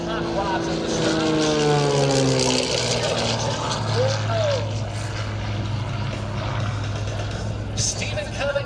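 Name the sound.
Gamebird GB1 aerobatic propeller plane at an air show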